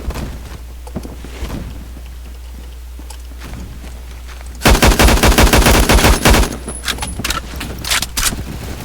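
High recoil AUG fire in Phantom Forces: after several seconds of scattered clicks and light taps, a loud sustained burst of rapid automatic shots, then a few shorter bursts and single shots, close and dominant.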